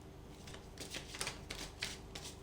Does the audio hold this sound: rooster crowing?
no